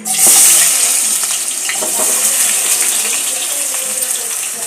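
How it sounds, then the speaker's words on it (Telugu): Chopped onions and green chillies sizzle in hot oil in a pan: a loud, steady hiss that barely changes, heard up close, with faint background noise and no clear speech. "ఇప్పుడు ఆనియన్స్ వేపుకుందాం."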